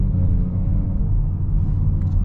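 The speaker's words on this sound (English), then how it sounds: "Noisy car in my blind spot." A passing car in the blind spot heard from inside a 2023 BMW X5 40i while driving, a steady low rumble of road and engine noise throughout with no clear separate pass-by peak.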